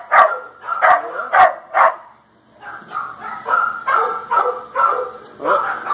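Dogs at the Olathe Animal Shelter bark loudly and close by in rapid bursts, a run of four sharp barks, a short pause, then a longer string of repeated barks and yips with no talking over them.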